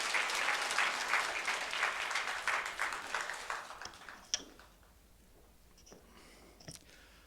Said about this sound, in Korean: 우리 장로님 나오실 때 우리 박수로 뜨겁게 환영하도록 하겠습니다.